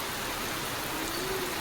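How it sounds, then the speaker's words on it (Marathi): Steady rain pours down outdoors on a hot summer day, a dense, even wash of falling drops that stays constant and moderately loud throughout. "तोपर्यंत पाऊस सुरूच झाला"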